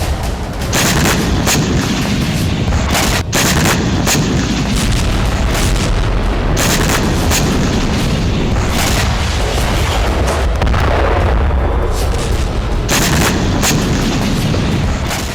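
A FAB-500 bomb detonates during a Russian strike on a Ukrainian military position, producing loud, dense booming blasts and a sustained rumbling roar that persists at high volume with repeated heavy thuds.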